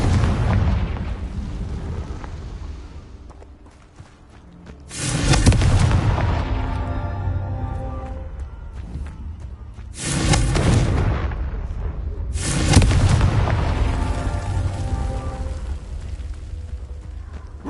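Confringo fire-blast spells explode in the wizarding game Hogwarts Legacy, three loud booming blasts several seconds apart, each with a deep rumbling tail over a constant low background roar.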